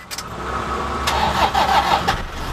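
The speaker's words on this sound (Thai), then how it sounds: "เดี๋ยวมาฟังเสียงเครื่องกันนะครับว่ามันเป็นยังไงบ้าง ลองสตาร์ทกันดู" A 2015 Toyota Vigo Champ 2.5 diesel pickup engine cranks and catches, then settles into a steady, rumbling idle close by, with a few sharp clunks along the way.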